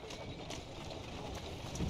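Horse hooves clip-clop at a steady trot through the London streets of Assassin's Creed Syndicate, a soft, continuous patter under low background ambience.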